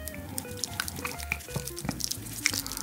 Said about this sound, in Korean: 살짝 알갱이가 보이도록 일단 뿌려봤거든요